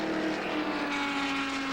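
A race car engine drones steadily at high pitch as the car enters pit lane during a Daytona sports car race, a continuous loud whine with no break across the short stretch.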